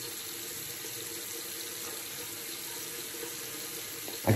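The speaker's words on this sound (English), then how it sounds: "I can add some more water to this." Tap water runs steadily and close by while a badger brush lathers shaving soap, a continuous hiss with a brief louder splash at the very end.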